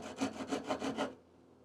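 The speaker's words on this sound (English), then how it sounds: "this is just a small Japanese hacksaw" Small Japanese hacksaw cutting salvaged wood with six quick rasping strokes at a steady rhythm, close and clear, then the sawing stops into near silence.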